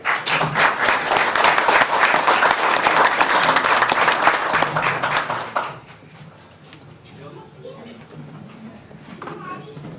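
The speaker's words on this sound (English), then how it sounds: "Let's give a round of applause to the City Council." Audience at a city council meeting applauding the council, a loud sustained burst of clapping that stops abruptly partway through and gives way to quiet room noise with faint movement.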